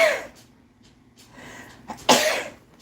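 A single loud, close sneeze bursts out near the end, preceded by a quieter breathy sneeze-like exhale at the start, in an otherwise quiet indoor room.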